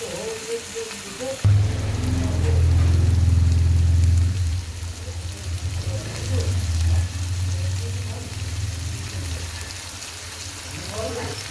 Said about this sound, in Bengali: গোটা জিরে মুড়িটাও দিয়ে দিলাম আবার এটা আমি হালকা করে ভাজতে থাকবো